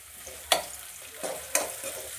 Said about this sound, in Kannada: ಈರುಳ್ಳಿನ ಚೆನ್ನಾಗೆ ಫ್ರೈ ಮಾಡ್ಕೊಳ್ಳಿ